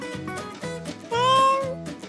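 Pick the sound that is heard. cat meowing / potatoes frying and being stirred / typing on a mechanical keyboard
cat meowing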